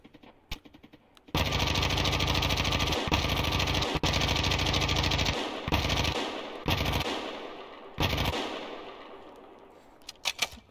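Automatic gunfire from a game set in snow, with long, loud sustained bursts of rapid shots broken by brief pauses, then fading shorter bursts and scattered single shots near the end.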